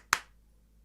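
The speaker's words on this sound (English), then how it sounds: "It's just as simple as adding one little clap in between two" A single crisp electronic clap sample hits once in a produced drum beat, sharp and bright with a short decaying tail, then near silence.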